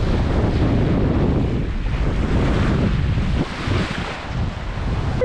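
Ocean waves and strong wind surround a sailboat far out at sea on a Pacific crossing, a steady broadband roar with gusts buffeting the microphone and no voices.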